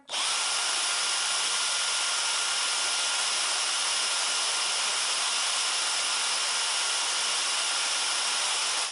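A vacuum cleaner runs close by with a steady, loud whooshing whine that holds constant throughout, with no voices.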